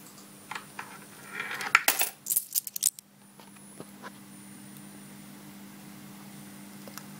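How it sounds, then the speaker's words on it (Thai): A Thai one-baht coin drops into an automatic coin-counting piggy bank, giving a short cluster of bright metallic clinks and rattles near the mic, then fading to a quiet electrical hum. "หยอดเหรียญหนึ่งบาท เหรียญหนึ่งบาทนะครับ"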